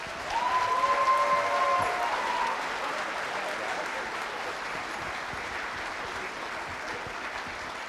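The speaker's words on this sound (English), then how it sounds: "So I think they all deserve another huge round of applause." An audience at a 5th and 6th grade band concert applauds fifth grade band players with a steady wash of clapping. A brief whistle-like tone rises over it early on, and the applause swells and then holds at a lower, even level.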